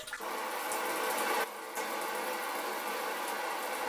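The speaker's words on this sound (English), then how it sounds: "First, this one is the posterior wash." An Eco Nova bidet seat runs its posterior wash, giving a steady close hiss of spraying water with a short dip partway through.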